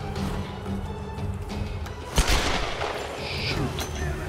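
Gunfire in the Tomb Raider video game, scattered shots and bursts with one sharper bang near the middle, over a busy continuous game soundscape.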